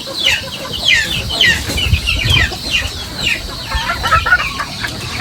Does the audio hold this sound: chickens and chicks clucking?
yes